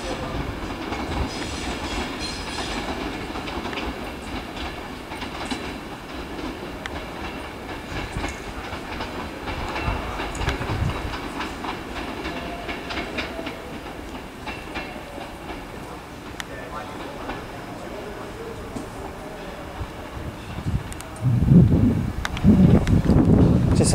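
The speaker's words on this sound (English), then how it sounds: "It is 39119 there, heading out to London Euston." Train 39119 departing Carlisle on the West Coast Main Line for London Euston, a continuous rumble with rail clatter and some wind buffeting, rising to louder bumps near the end.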